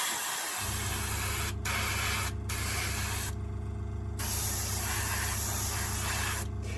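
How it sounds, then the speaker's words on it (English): An airbrush sprays paint onto a model railway at Leopard Street Model Railway, giving a steady, close hiss that runs almost continuously with a few brief cut-offs between bursts. "When I can get paint to go through the airbrush"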